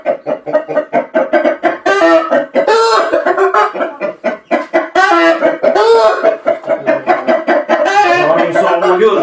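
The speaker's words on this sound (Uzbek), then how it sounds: "Rosa urushqoq jo'ja aka-ukalar." A combative young rooster clucks and crows loudly and close, in dense repeated bursts with short gaps, each call rising and falling, filling the whole stretch with little background noise.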